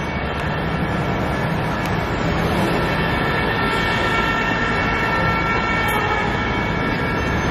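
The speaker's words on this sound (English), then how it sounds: "New York streets is so loud." A New York City street roars with dense, loud, unbroken traffic noise, with siren-like tones woven through the constant din.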